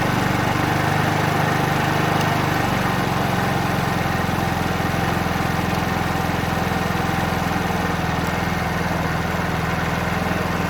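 A 50cc petrol scooter engine runs steadily and loudly throughout, a continuous buzzing drone with a faint rise in revs as its carburettor is adjusted for tuning.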